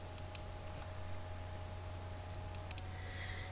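A few faint, sharp computer mouse clicks sound in a quiet room over a low steady hum, some landing close together in pairs, with no talking.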